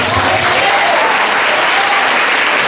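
Women at a church congress applaud loudly and steadily, a dense continuous roar of clapping from a large crowd with some voices mixed in.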